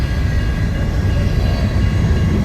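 A freight manifest train rolls past on the tracks close by, a loud, continuous rumble and roar of rail cars with steady low-frequency grinding throughout.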